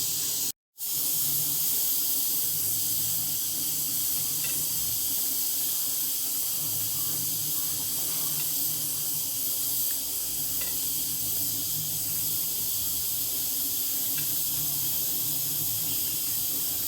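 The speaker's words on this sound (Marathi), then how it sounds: "पाटवडी रस्स्याला उकळी आलेली आहे।" A pot of patwadi rassa, a spiced curry, simmers at a boil with a continuous soft hiss and faint bubbling, steady and close, with no talking.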